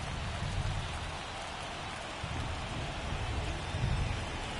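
Steady heavy rain pours over a baseball field in MLB The Show 23, a dense continuous hiss with faint low rumbles beneath and no voices.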